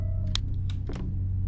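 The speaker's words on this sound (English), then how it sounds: "I think there's a light switch, maybe I can flip." A light switch being flipped in the horror game Undiscovered House: a couple of short, faint clicks over a steady low hum, with no talking.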